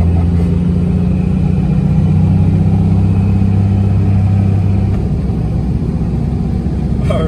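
Manual Dodge Ram 2500 with a 5.9 Cummins diesel accelerating hard, a loud, deep sustained engine drone heard from inside the cab, steady and rumbling, easing slightly near the end.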